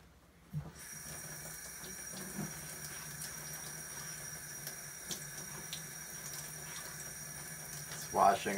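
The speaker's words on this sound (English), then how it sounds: "It's washing off all of this sanded plastic." Running water rinsing powdery sanded plastic off a door speaker part for a 2011 Jeep Compass, a steady faint faucet stream with a few brief splashes and a louder gush near the end.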